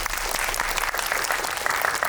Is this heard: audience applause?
yes